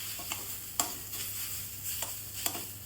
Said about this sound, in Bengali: খুন্তি দিয়ে একটু নাড়িয়ে চাড়িয়ে ভালো করে শাকের সঙ্গে মিশিয়ে নিতে হবে সব কিছু জিনিস